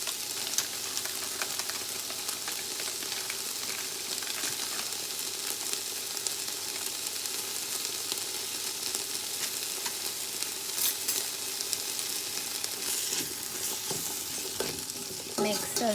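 Vegetable fried rice sizzles steadily in a pan while being stirred and scraped, a continuous close frying hiss with faint utensil clicks throughout, no voices.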